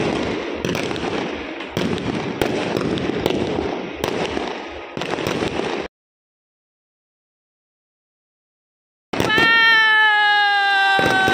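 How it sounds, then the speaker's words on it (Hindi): Firecrackers set off outdoors during a celebration: a rapid run of loud cracking bursts, then abrupt silence, then a brief whistling, rising tone. "पहली बार पटाखा छोड़ी है।"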